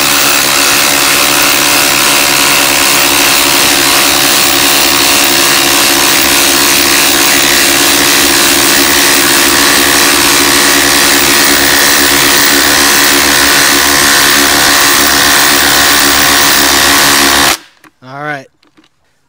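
A Hercules and a Hilti 22V Nuron impact driver drive 6-inch lag screws together, making a loud, continuous high-pitched whine and hammering rattle that stops abruptly near the end, followed by a short burst of speech.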